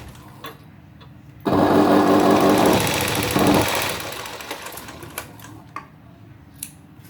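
A sewing machine stitches a blouse neckline in a steady, close burst of about two seconds, running loud and even before slowing and stopping, followed by a few faint clicks and handling sounds.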